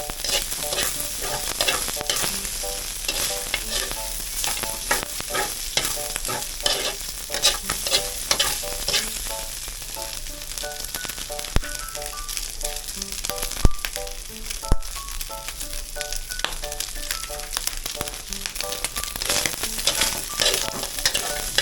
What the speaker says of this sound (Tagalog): gigisahin na natin